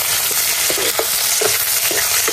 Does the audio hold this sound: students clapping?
no